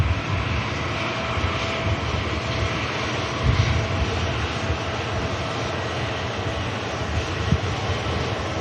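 An EasyJet airliner takes off from Manchester Airport bound for Belfast, its engines a steady broadband roar that holds at a fairly loud level throughout, with no voices.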